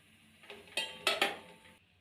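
A cooking pan is set down on a stove before oil is added, giving several clear metallic clanks and knocks close by in a quiet room.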